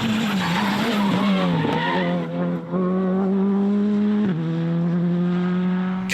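A rally car in tarmac specification on an asphalt stage of the European Rally Championship in Poland, its engine droning loud and close with a steady pitch while the tyres scrub and skid for about six seconds.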